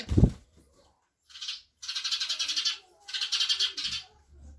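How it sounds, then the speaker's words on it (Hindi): House sparrows chirping outdoors near a roadside, with a short bump of noise at the start, then two sustained bursts of rapid, fairly loud chattering with a gap between them. "जो मेन डिस्टरबेंस है वो गौरैया का है"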